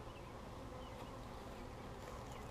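Aggressive honeybees buzz continuously at a hive during an inspection, a dense steady drone of many bees close by with no talking.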